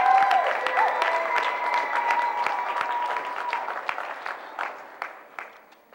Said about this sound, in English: please, big round of applause for Ed Danilon.